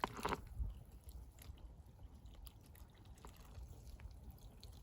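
Water trickles and drips as it drains from freshly watered succulent pots, a faint, soft, continuous dribble with a brief louder burst at the start, heard alone at night without talk.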